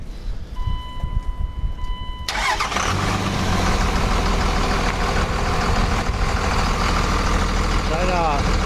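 An off-road wrecker truck's engine cranks and catches after a faint high whine, then settles into a loud, steady, close idle that runs to the end.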